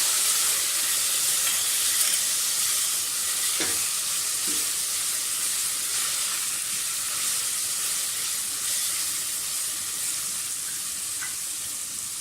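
A garlic, ginger and green chili paste hits frying onions in a pan for a chicken kebab masala gravy, producing a steady bright sizzle with occasional stirring scrapes, close and unbroken, with no talking.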